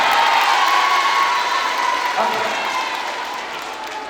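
Students at a live motivational seminar in a Gontor school hall break into loud, dense clapping and crowd noise that slowly fades, with a voice speaking briefly over it.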